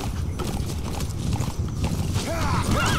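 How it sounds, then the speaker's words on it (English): Horse hooves clip-clopping at a gallop in Metal Gear Solid V: The Phantom Pain, with a whinny rising near the end, loud and close over continuous game background noise. "Horses nay."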